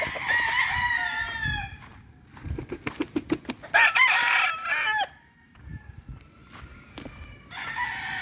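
Several roosters crowing at a game farm in Batangas, with long harmonic cock-a-doodle-doo calls near and loud at the start, rhythmic clucking and flapping in the middle, and more crowing returning at the end.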